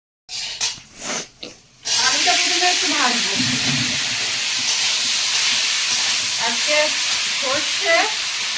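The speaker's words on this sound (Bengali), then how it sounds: "ওদিকে একটু আলু ভাজছি আবার" Potatoes fry in hot oil in a wok, a loud continuous sizzling hiss that starts suddenly after a few clattering sounds, with a voice talking over it.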